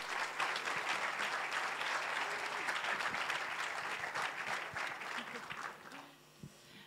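An audience at an award ceremony bursts into sustained applause, many hands clapping densely for several seconds before the clapping thins and fades out near the end.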